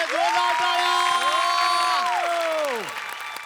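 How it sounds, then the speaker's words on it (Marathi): A studio audience at a Marathi comedy show breaks into loud applause and cheering, while bright sliding musical tones sweep over the crowd before fading near the end. "क्या बात है, जोरदार टाळ्या!"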